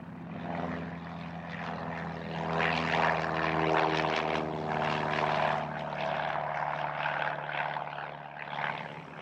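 A propeller airplane's engine drones steadily with a deep hum. It swells a bit louder in the middle and holds without a break.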